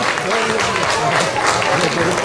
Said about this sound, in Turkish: Güzel bir alkış gelsin Ahmet için